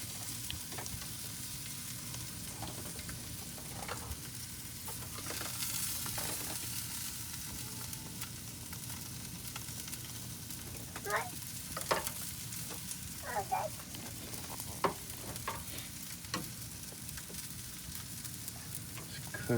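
Steak frying in a pan, a steady low sizzle running throughout with scattered crackles and pops, close and fairly quiet, with no talking.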